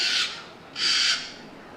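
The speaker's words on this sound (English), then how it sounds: "You want to show him your scream? Let's do the scream." Bird at Disney's Animal Kingdom screaming on cue, two loud, harsh, rasping squawks about half a second apart, close and clear with no talk.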